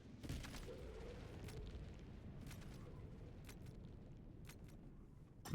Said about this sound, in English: Nice, gorgeous Big bomb.